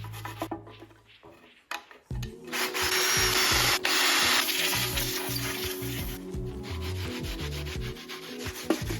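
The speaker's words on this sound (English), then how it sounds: "The intake needs a little cleaning before it can be reinstalled." Someone scrubs dirt off the intake of a BMW E36 engine, making a continuous rough rubbing sound that lasts about seven seconds at close range.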